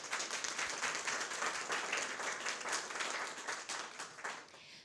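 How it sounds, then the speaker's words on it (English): An audience applauds at a talk on the future of work, with dense, steady clapping that holds throughout and tapers slightly at the end. "So please give them a round of applause."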